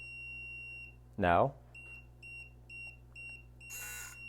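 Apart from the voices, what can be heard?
Hidalife HL-300L smoke alarm beep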